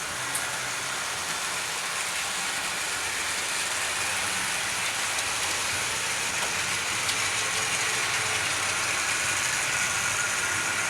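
A steady, continuous rumbling whir of a small Tri-ang model train running along a track, unbroken and even in level, with no talking.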